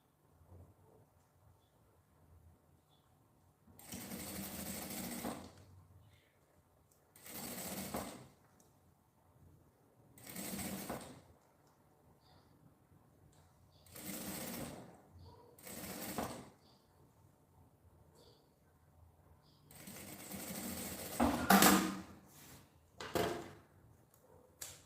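A domestic sewing machine stitches a mesh pocket on a luxury toiletry bag in several short whirring runs of a second or two each, separated by pauses, heard close and alone.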